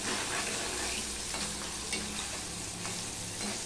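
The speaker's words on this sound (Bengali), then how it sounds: "পনিরগুলো কিন্তু আমি হালকা করেই ভাজবো, একদম লাল লাল করে ভাজবো না" Paneer pieces fry lightly in salted oil, producing a steady, close sizzle with occasional stirring clicks and soft pops, and no talking.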